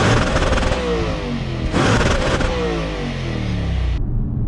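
An Audi RS4 B8 4.2-litre naturally aspirated V8 engine revs hard and loud, rising and falling in pitch with a throaty roar, then cuts off abruptly near the end.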